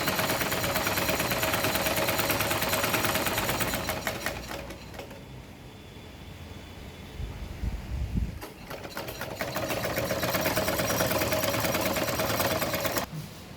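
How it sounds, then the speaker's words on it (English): Sewing machine stitching the second pass of a run and fell seam on denim for a tote bag, fast rattling close stitching that pauses midway for a few seconds, then resumes. "After trimming the fabric, I'm flattening it and doing my second stitching."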